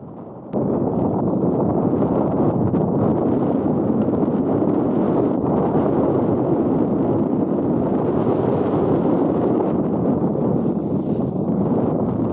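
Strong wind at sea buffeting the microphone while a sail is hoisted on a boat, a loud, continuous low roar and rumble with no speech.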